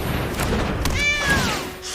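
A cat meows once in the MTG Arena digital card game as a cat card is played, a short rising-and-falling call over the game's background music, loud and close.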